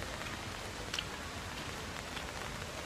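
Steady rain falls outdoors near the Harvalem waterfalls and caves in Goa, a dense even hiss of drops with a few closer patters, no voices.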